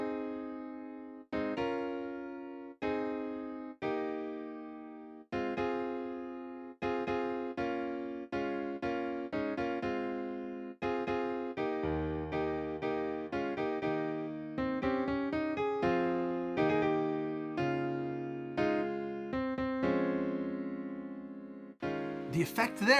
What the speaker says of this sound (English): I strip everyone back to piano.